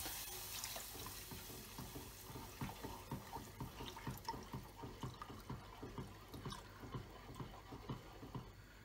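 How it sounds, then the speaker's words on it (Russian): Milk poured gradually into a saucepan for béchamel sauce, a soft continuous liquid trickle with faint rhythmic stirring or splashing, quiet and close. "Понемногу добавляем 700 миллилитров молока."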